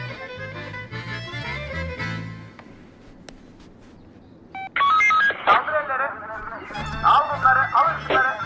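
An electronic phone ringtone chirps in repeated tones, starting partway through and continuing over background noise and brief voices.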